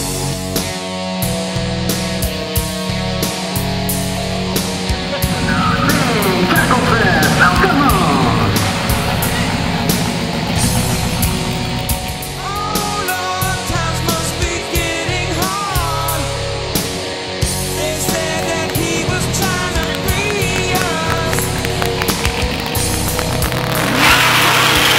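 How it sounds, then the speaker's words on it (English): Drag-style race cars firing up at a street cruise night with a loud, continuous roar of revving engines, rough throttle blips and crackling exhaust for the whole stretch, close by, with occasional crowd shouts mixed in. "Right now, we're bringing out some Dragstars, and we're going to fire those bad boys up"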